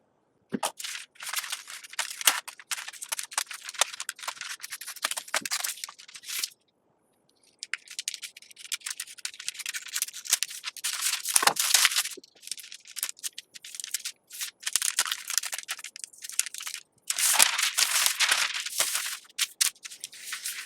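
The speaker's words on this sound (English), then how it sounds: "let's go ahead and cut along them" Scissors snip through a paper pant sloper pattern draft in repeated cutting bursts with a few short pauses, close and crisp, with no talking.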